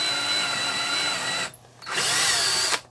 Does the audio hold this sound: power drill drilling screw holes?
yes